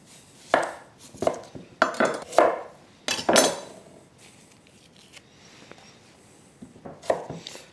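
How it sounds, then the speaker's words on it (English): A kitchen knife slicing a home-grown red onion into half moons: a handful of crisp, close cuts in an uneven rhythm, clustered early and one more near the end, with no talking. "This is a red onion that I grew in my own garden. And I'm just going to slice it into half moons"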